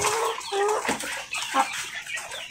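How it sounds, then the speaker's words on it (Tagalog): Chickens cluck and murmur softly in a continuous, busy chatter, fairly close, with no talking. "Yan yung manok natin ng mga sisiyo bukod sa nakatali."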